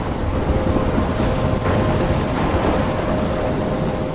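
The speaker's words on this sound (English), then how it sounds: "I'm trapped in a storm?" Thunderstorm in the Life is Strange video game: dense, heavy rain roars continuously with a low rumble of thunder underneath, loud and steady, with no voices.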